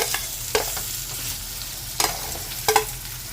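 Potatoes and carrots sautéing in a pan for Filipino beef menudo, with a low steady sizzle broken by a few sharp stirring scrapes and clatters.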